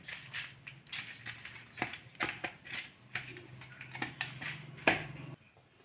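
A gas stove is lit and a wok is set on it while fish curry is being cooked: close, irregular clicks, clatter and scraping of metal cookware, with no talk.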